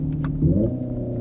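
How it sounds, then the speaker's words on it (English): Hyundai Ioniq 5 N electric car drivetrain while driving: a low synthetic engine-like hum that swells briefly after a couple of faint clicks, then settles into a steady tone. "I know I'm hearing the drivetrain now"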